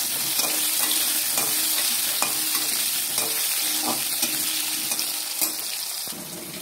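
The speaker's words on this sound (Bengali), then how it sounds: "এবার আলুগুলো ভেজে নেব" Potato pieces fry in hot oil in a pan after pointed gourd, giving a continuous, loud, close sizzle with small crackles and pops throughout.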